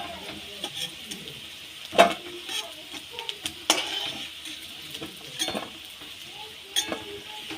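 Potatoes fry in oil with a soft, steady sizzle, broken by occasional sharp clinks and scrapes of a spatula against the pan as they are turned and lifted out.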